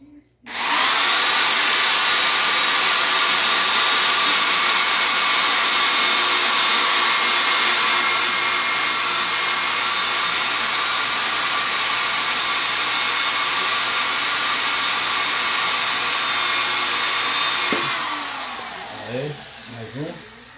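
A power drill bores a hole into a broom handle, giving a loud, steady, close-up whine that holds for about seventeen seconds before cutting off, after which a voice speaks briefly.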